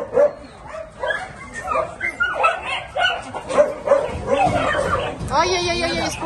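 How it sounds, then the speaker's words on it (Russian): Small puppies yip and whimper in a string of thin, high cries, close by and mixed with people talking. "маленькие щенки"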